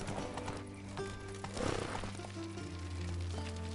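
A horse gallops in The Witcher 3, its hoofbeats sounding through a steady bed of game music and ambience, with a brief louder flurry of hooves midway through.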